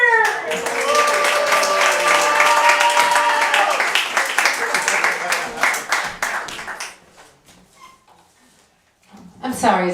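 A theater audience claps and cheers, dense and steady with voices over it, thinning out after several seconds into near silence before a short final burst of clapping.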